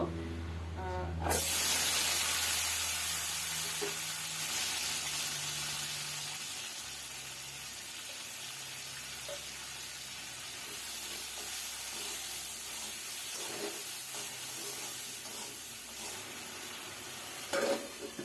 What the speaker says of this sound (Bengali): কড়াইয়ে তেল দিয়ে দিয়েছি আর আমি কটা আলু ভেজে নিব।